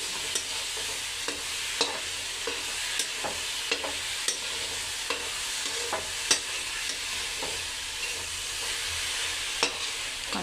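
Carrot halwa being stirred and mixed in a pan, a steady sizzling bed with repeated scraping spoon strokes at an irregular rhythm, close and continuous, no voices.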